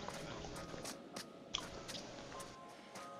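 Loud wet munching and chewing in the video game The Devil in Me, a run of repeated squishy bites in an uneven rhythm over a quiet background hum, with no talk.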